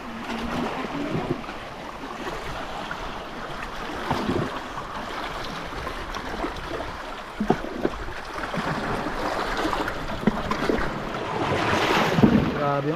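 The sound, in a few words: ocean waves around a fishing boat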